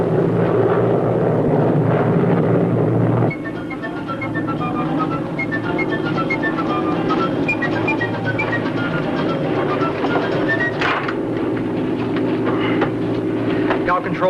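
A propeller airplane flies in on approach to a runway, its engines a loud, steady drone that shifts in pitch partway through, with talk over the noise.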